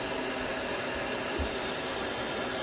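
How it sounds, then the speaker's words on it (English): A blow dryer held straight up to blow excess lash fibers away, a steady close airy whoosh running unbroken throughout. "I'm just holding my blow dryer straight up, and that gives them that lift"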